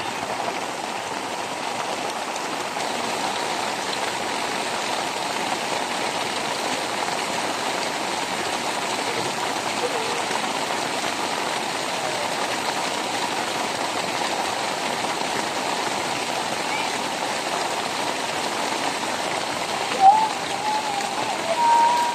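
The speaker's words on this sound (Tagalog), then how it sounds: "Oh, lakas ng baha, oh." Floodwater rushes hard down a swollen river during heavy rain, a loud unbroken roar of water and rainfall that holds steady throughout, with a brief knock near the end.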